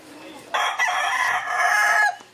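A rooster crows once loud and close, a long drawn-out call lasting nearly two seconds against quiet farmyard background.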